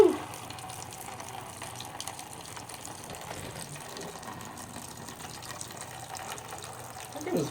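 Coolant gushes out of a Kawasaki Ninja 300 motorcycle during a coolant flush, a faint, steady watery rush running throughout, with brief louder bursts at the start and end.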